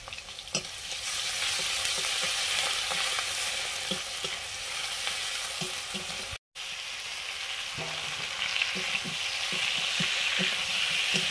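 Vegetables frying and being stirred in hot oil with turmeric for a fish curry with potato, pointed gourd and ridge gourd, a steady close sizzle with scraping stir strokes, briefly cut near the middle.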